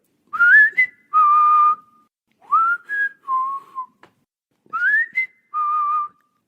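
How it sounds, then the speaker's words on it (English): A person whistles a simple melodic tune in short, clear phrases with brief pauses between them, close and alone with no other sounds. "I like to whistle when I get afraid."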